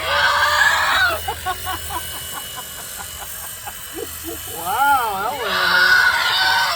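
An Angora goat being sheared lets out loud, harsh bleating yells in several bursts, alternating with a person speaking close by, the cries rising and wavering before a final long call.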